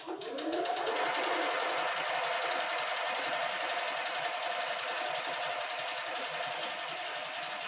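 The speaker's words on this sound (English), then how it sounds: "And I'm going to take it to the sewing machine." A sewing machine stitches a quarter-inch quilt seam, with a loud, close, continuous motor whir and rapid needle chatter that starts abruptly and runs steadily to the end.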